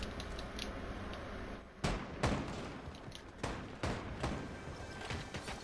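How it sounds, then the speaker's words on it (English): Gunshots in a video game ring out in sharp, separate cracks, several spaced a second or so apart over a steady background, with no talking heard. "Shots over my way."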